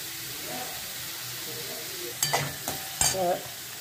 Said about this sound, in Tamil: போட்டு நல்லா வதக்கிக்கோங்க வெங்காயத்தை.